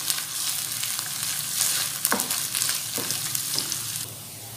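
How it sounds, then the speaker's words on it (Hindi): Ginger garlic paste frying in a pan for a creamy Malaysian chicken dish, a constant close sizzle broken by a few stirring clinks and scrapes, easing slightly at the end. "अदरक लहसुन ऐड करके इसे जस्ट 1 मिनट के लिए फ्राई करें"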